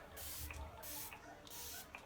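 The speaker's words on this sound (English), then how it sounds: "The spray is like so freaking fine." A makeup setting spray lets out a fine mist in three quick hissing pumps, evenly spaced and close by, with no talking over them.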